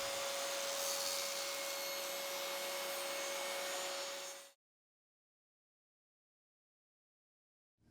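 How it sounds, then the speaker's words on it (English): A table saw tilted to 45 degrees cuts walnut with a loud, steady whining roar and a sustained tone. After about four and a half seconds it cuts off abruptly into silence. "I'll put the table saw blade to 45 degrees and chop this into 4 sides with mitered corners"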